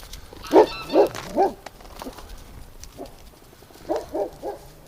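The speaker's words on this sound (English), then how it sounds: "Yeah, you bark, Doug." Dog barking outdoors on a winter duck farm: a close run of three loud barks, a pause, then three softer barks.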